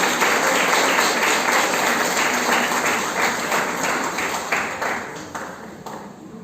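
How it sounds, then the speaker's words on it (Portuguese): Church congregation applauding during a worship service, a full sustained round of clapping from many people that slowly tapers off, with a steady ringing tone running underneath. "Aplaude a Deus em nome de Jesus."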